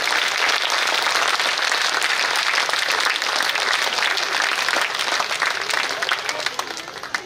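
Loud, dense applause from an audience at a government school's platinum jubilee celebration, clapping for the schoolchildren, sustained throughout and easing slightly toward the end.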